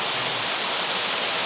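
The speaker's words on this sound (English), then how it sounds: "We're building a walkway into this waterfall." A waterfall pours in a steady, loud, broadband roar, continuous and close, with no other sound over it.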